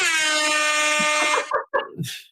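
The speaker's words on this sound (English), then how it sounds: "Sorry, that's the air horn." A loud, brassy air horn blares for over a second, followed by short clattering knocks and a brief hiss.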